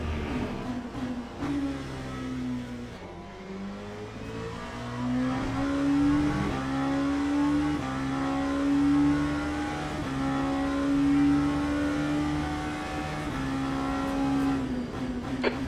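Multiclass race car engines at Bahrain in the Le Mans Ultimate racing simulator drone and rev continuously, with pitch rising and falling through gear changes as cars race close by.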